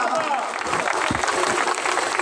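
Applause rings out for the arriving chairman of Pakistan Kisan Ittehad at a farmers' gathering, a dense wash of clapping sustained throughout with crowd noise and voices mixed in.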